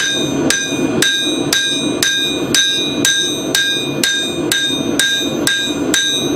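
A hammer tapping a chasing tool along a bevel line, about a dozen bright metallic strikes in a steady, even rhythm roughly every half second, close and clear with no talk.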